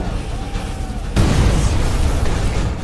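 A heavy cannon blast from an Ottoman siege booms out abruptly, followed by a sustained loud rumble and roar that fills the rest of the moment.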